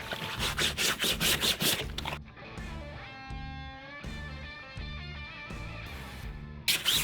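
A fingernail scrubber rubbing the exterior of fishing waders, rapid rhythmic scratchy strokes up close at first, then a steadier background with pulsing tones for a few seconds before the brisk scrubbing briefly returns.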